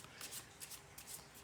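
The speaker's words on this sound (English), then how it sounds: "I'll just shuffle a little bit more" Tarot cards being shuffled in quick repeated riffling bursts, soft and close, with no voice over them.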